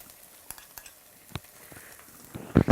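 Tomato paste cooking in a pan, faint sizzling broken by scattered clicks and utensil taps, rising to a louder stir near the end.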